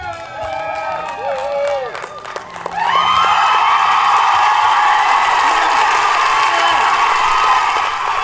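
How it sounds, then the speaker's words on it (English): A crowd at an outdoor Juneteenth community celebration breaks into loud applause and cheering with whoops and shouts, swelling after a few seconds of scattered voices into sustained clapping. "Can we give one more round of applause for Empress?"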